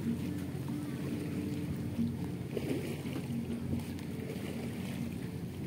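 Sea near a shore with a small boat, a steady broad wash of water and wind that rolls on continuously without clear breaks, moderately loud and close.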